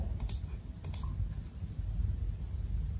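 Keys click on a computer keyboard as a plot title is typed, a few quick taps near the start followed by a quiet low room hum.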